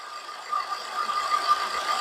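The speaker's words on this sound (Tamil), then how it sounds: "இந்த பெல்ட் சவுண்டு தான் வருதுங்க" A used diesel car engine, an Indica Vista or Nissan Micra, idles steadily with a faint whine of belt noise riding over the low, even hum, heard close up.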